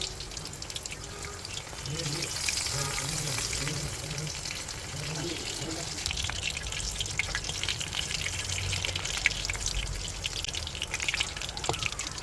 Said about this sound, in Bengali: অনেকগুলো পাতাগুলো খুলে গিয়েছে সেগুলো ইন্ডিভিজুয়ালি একটা একটা করে ভাজি করবে